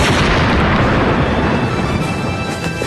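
Dense, loud burst of gunfire from cartoon soldiers shooting, a continuous rumbling barrage of shots and booms with no pause.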